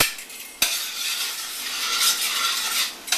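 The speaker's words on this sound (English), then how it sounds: "What we're going to do here is we're going to add our zucchini. Our zucchini is cooking." Zucchini sizzles steadily in olive oil in a pan, a close, bright hiss with a couple of sharp clinks of a utensil against the pan.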